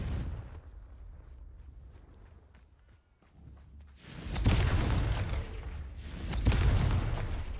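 Confringo fire spell blasts in Hogwarts Legacy, aimed at vases: two loud, booming bursts land close together, each ringing out, after a stretch of quieter footstep-like scuffing.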